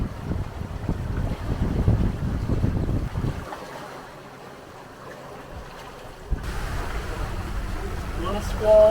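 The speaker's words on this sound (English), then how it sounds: "Little squall, little windy squall" Squall wind buffets a homemade aluminum sailboat under full sail at sea: loud, rough wind rumble against the microphone, a quieter lull, then the gusting noise surges back with water and rigging sounds.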